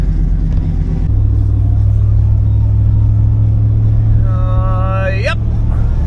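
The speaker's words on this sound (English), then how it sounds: "Yep, pulling the trailer, 50 miles an hour." A band van's engine drones steadily and close while it tows a trailer at about 50 miles an hour, a deep constant road rumble, with a brief whine rising near the end.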